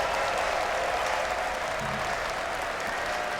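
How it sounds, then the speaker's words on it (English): A large esports crowd cheers and applauds at ESL One Berlin during a Dota 2 match, a dense, steady wash of noise heard from a distance through the broadcast. "The crowd is cheering for something"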